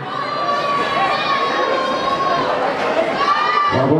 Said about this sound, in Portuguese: Pode vaiar, galera, pode vaiar, porque eles merecem.